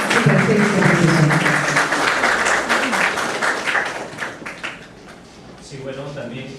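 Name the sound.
audience applause welcoming a speaker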